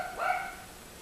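A neighbor's dog barks once outside, a single faint and distant bark over a low background hum.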